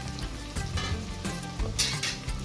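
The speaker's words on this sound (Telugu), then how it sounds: "ఇప్పుడు కొద్దిగా జీడిపప్పు వేసుకుంటున్నాను." Cashews tossed into a hot pan and frying, a continuous crackling sizzle with a few brighter spitting bursts, close and fairly loud, with no talk.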